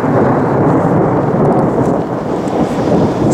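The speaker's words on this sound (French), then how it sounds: "aimer marcher sous la pluie, être trempé, avoir froid" Heavy rain pours down steadily through an outdoor group walk, with a dense, loud wash of noise and a soaked camcorder out in the open.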